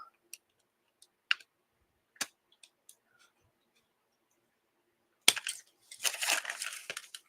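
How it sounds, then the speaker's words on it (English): Paper being cut at an angle for envelopes: sparse faint clicks and snips at first, then a closer burst of crisp crunching and rustling paper near the end. "I am going to cut these at an angle"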